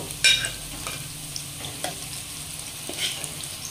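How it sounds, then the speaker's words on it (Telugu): Fish pieces tipped into a pan of fried onions for a fish stew, hitting with a loud burst of sizzle, then steady frying crackle with scattered stirring clinks and scrapes. "వేయించుకున్న ఆనియన్లోకి మనం కలిపి పెట్టుకున్న ముక్కల్ని వేసేసుకోండి"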